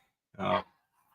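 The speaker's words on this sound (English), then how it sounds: "hopefully you can hear all my dogs in the background." A single short bark from a dog, fairly faint and a little distant, surrounded by quiet.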